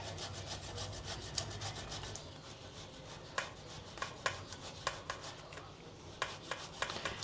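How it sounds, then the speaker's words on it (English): Peeled potatoes are grated on a hand grater, a soft scraping rub with a string of sharper rasping strokes in uneven rhythm, close and fairly quiet with no talk. "we're just going to grate it like this"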